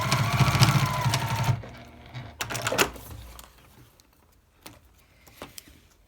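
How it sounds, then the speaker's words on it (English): A home sewing machine stitches down a folded seam on a plastic-lined makeup bag, running in a steady rapid whir for about a second and a half, then stopping, followed by a few brief clunks and handling knocks. "just fold it flat and stick it in my machine and stitch it down"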